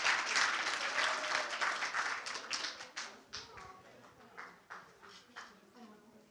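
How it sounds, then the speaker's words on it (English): An audience at a hurricane awareness fair applauds a prize winner, a loud burst of clapping at first that thins into scattered, fading claps over several seconds. "Let's give her a big round of applause."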